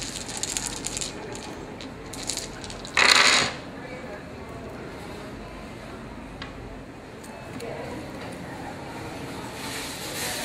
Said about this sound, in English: I roll my energy dice.